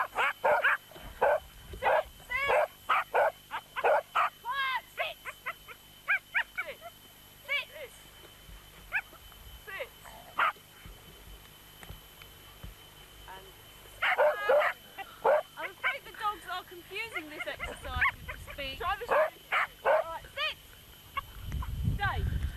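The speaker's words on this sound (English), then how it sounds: "One dog at a time, doing the speak." Several dogs give short, sharp barks on a speak command during working trial training, bursts coming one after another, mixed with a trainer's voice talking between and over them.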